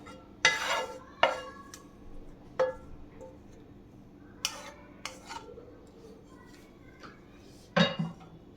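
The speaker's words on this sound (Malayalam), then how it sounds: "നമുക്ക് പൈനാപ്പിളിനെ ഈ തൈരിലേക്ക് മിക്സ് ചെയ്യാം" Caramelised pineapple is stirred into yogurt in a bowl, giving a series of sharp spoon clinks and scrapes spaced irregularly over a quiet background, with no talking.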